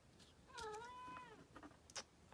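A pet cat named Patty meows once, a drawn-out, wavering call up close indoors, followed by a few faint soft sounds and small clicks.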